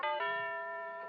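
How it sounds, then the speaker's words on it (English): A doorbell rings with two bright chime tones in quick succession, the second ringing out and slowly fading, close and alone. "I closed my fist around it and pushed the bell"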